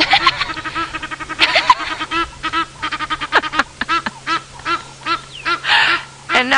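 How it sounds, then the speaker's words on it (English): An Egyptian goose honks loudly and repeatedly at close range in the African bush, giving rapid harsh calls in uneven bursts over a low steady background hum. "we've got the Egyptian goose taking one of the out of the impala's book and chasing everyone else around"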